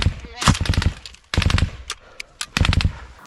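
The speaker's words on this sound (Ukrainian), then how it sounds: "Это я решил быстро разрядить пулемет" A machine gun fires in three rapid bursts of loud, close shots, with short quiet gaps between them.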